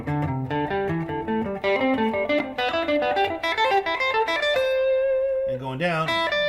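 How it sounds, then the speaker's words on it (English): Electric guitar picking a pentatonic scale from position five down to position one, a steady run of single notes with slight effects and one held note near the end, close and continuous. "and then you're going to play the pentatonic scale position 5 right here"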